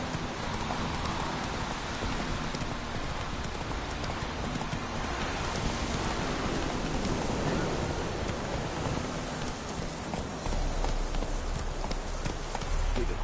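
Roach, the player's horse in the video game The Witcher 3, gallops with steady, driving clip-clop hoofbeats, loud and close throughout, over a wash of rain-like ambient noise.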